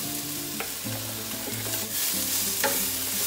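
Carrots and peppers frying in oil while being stirred in a pan, a constant close sizzle with repeated scraping strokes of a utensil, no voices.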